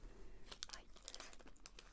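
Scissors cut open the plastic wrapper of a chocolate cream puff snack in a few quiet crinkles and snips, close and soft over a steady background hiss.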